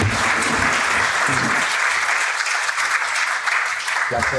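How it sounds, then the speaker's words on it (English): A conference audience breaks into loud, sustained applause for the speakers, dense clapping filling the room for several seconds with a brief voice at the start and end. "A round of applause for them all."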